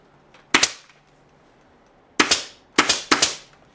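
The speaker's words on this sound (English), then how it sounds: "I'm going to come this way a little bit more with some staple work" Staple gun firing into upholstery fabric while cutting around posts: one sharp snap, then after a pause three quick snaps in a row, close and loud with quiet between.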